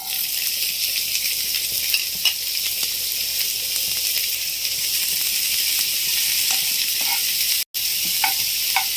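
Onions frying in a small amount of oil in a hot pan, a steady close sizzle with a stirring clatter and scrapes throughout, and a brief dropout near the end, with no talking.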